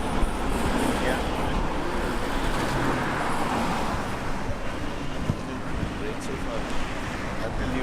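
Cairo street traffic with cars and motorbikes, a continuous wash of passing engines and road noise close by, steady throughout with some wind buffeting and faint voices underneath.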